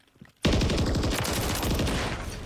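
Automatic gunfire in Modern Warfare 3 multiplayer bursts in abruptly and loud, a dense rapid stream of close shots that continues unbroken for about two seconds with no talking.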